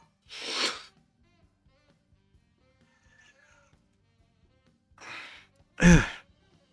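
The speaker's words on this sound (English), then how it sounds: "Sorry if I breathe like that. I'm trying to stop the yawn so I can keep talking" A man suppressing a yawn lets out heavy, breathy exhalations, a soft breath at the start, then after a quiet pause a second breath and a sharp strained gasp close to the mic.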